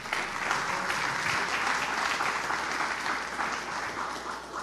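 Church congregation applauding steadily during a gospel service, a dense, sustained wash of clapping that holds at an even level throughout.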